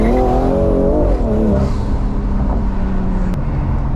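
A BMW M340i with anti-lag revs loudly and close up, the engine note climbing and falling in a sustained drone with popping crackle, and a sharp bang near the end.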